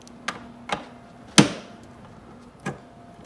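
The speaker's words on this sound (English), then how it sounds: "Take your socket wrench, go in there," Socket wrench loosening a bolt on a W204 tail light, a few sparse sharp metallic clicks and ratchet ticks spaced apart, one louder snap in the middle, close and alone.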